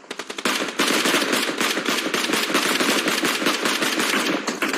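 Dense automatic gunfire from a PUBG Mobile match at a SEA Games team event, loud and continuous rapid bursts layered over one another with no pause, and no voices.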